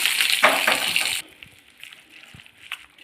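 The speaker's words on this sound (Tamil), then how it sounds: "இப்போது தயிர் சாதத்துக்கு தாளித்து ஊற்றிக்கலாம்" A hot tempering for curd rice poured in, a loud burst of sizzling and spattering that cuts off abruptly after about a second, followed by faint clinks and low background sounds.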